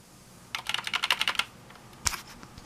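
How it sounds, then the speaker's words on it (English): Rapid bursts of keystrokes on an old PS2 keyboard connected to a Replica I Apple I clone, a quick cluster of clicky taps followed by a single sharper key press, close and alone with no talk. "I plugged in an old PS2 keyboard here."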